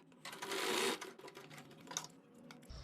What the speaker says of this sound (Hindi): यहाँ पर कच्ची सिलाई लगा लेते हैं इस प्रकार से।